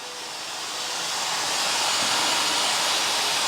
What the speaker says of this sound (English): And you see how much steam is coming out once you guys do turn it on.